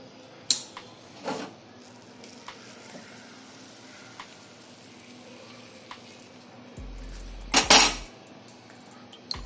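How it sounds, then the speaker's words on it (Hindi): Aflatun, a Mumbai sweet mixture, gets turned out into a greased steel plate, giving a few sharp metallic scrapes and clanks with a loud clattering burst near the end against a quiet kitchen background. "अब इसको जो है हम थाली के अंदर पलटेंगे"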